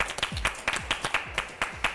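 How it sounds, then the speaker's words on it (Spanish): An audience applauds a speaker being welcomed to a Spanish-language talk, with loud, evenly spaced claps in a steady rhythm, close and distinct, about four per second. "El aplauso para Miguel."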